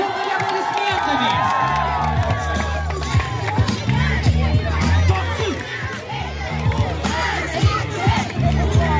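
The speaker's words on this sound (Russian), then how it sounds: "Встречаем бурными, бурными аплодисментами!" A crowd of young campers cheers, whoops and applauds at a summer camp dance and cheerleading event, a loud, continuous roar of shouting voices with a host's voice over it.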